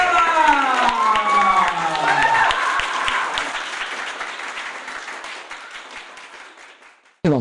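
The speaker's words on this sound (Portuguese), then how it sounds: "palmas pra ela!" Studio audience of children clapping and cheering on a Brazilian children's TV programme, dense applause under loud music that fades gradually before an abrupt cut.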